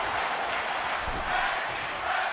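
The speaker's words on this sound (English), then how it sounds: "Crowd here tonight going crazy." A WWE 2K22 wrestling arena crowd in a Money in the Bank match roars steadily, a dense wash of cheering and shouting heard from a distance that holds at an even level throughout.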